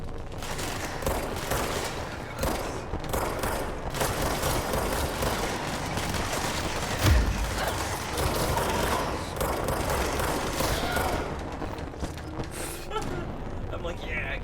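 Gunfire from the video game Control crackles in rapid, repeated shots over a dense, noisy game mix, with one heavier boom near the middle, sustained for the whole stretch.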